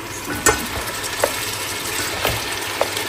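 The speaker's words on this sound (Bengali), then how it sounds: "পেঁয়াজটা ব্রেস্তা হয়ে আসছে, এখন মিটটা দিয়ে দিই" Onions and meat sizzle and fry in a pan for haleem, a steady close crackle broken by a few clinks of a stirring spoon.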